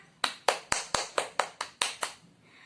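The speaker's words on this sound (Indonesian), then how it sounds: "Kita kasih tepuk tangan untuk Mbak Eti ya anak-anak." A small group of children in a fifth-grade classroom claps together in unison, about eight crisp, evenly spaced claps, close and fairly quiet, ending cleanly.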